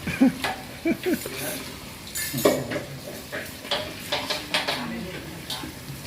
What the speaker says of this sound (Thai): เป็นการคนให้สุกก็ใช้ได้แล้วครับผม